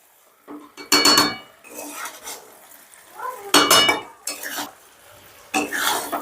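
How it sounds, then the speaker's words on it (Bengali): Fried brinjal is folded gently into a spice mixture in a pan for an egg and brinjal curry, giving several separate bursts of a spoon scraping and clinking against the pan in an uneven rhythm, close up with no talking. "এবারে বেগুনটাও আমি আলতো হাতে মিশিয়ে নেব যাতে ঘেটে না যায়"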